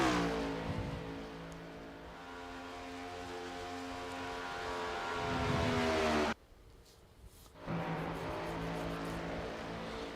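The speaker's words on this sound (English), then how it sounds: "he's going to begin his qualifying lap" A NextGen Cup stock car engine drones steadily on a qualifying lap at Chicagoland Speedway in iRacing. The tone is fairly quiet, drops out sharply for about a second and a half, then returns.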